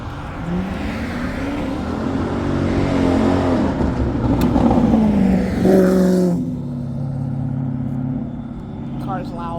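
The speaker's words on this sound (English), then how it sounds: "Car's loud." A loud car engine revving close by on a street, heard from a scooter, with a rising engine drone and a passing surge, while voices talk over it.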